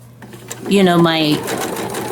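Sewing machine stitching a blue Christmas journal cover at a 2.4 stitch length, a short close whirring run of under a second between quieter moments, with a person talking.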